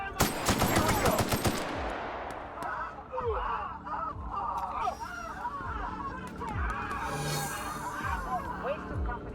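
A short, fast burst of gunfire in The Outer Worlds crackles loudly at the start, then gives way to quieter scattered noises and squawk-like calls in the background.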